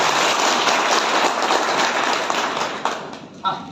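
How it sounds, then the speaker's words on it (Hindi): Loud, dense applause from a crowd at a JCB and dumper driver union conference in Pasighat, East Siang, a steady wash of clapping that thins slightly toward the end, with a couple of sharper claps. "सब फिर से जोरदार तालियां।"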